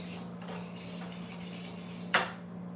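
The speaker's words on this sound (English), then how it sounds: "Keep on turning and stirring." A spoon stirring turkey pot pie cream sauce in a pot, with soft scraping and light clinks over a steady low hum, and one sharper clack of metal near the end.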